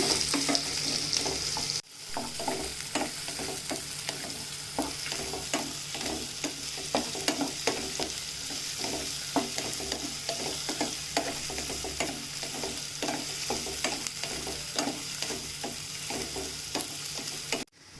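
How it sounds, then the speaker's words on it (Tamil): Chopped onions sizzle and fry in a pan for mango pachadi, with steady rhythmic scraping of a spoon stirring them throughout. "வெங்காயம் நல்லா வதக்கிக்குங்க."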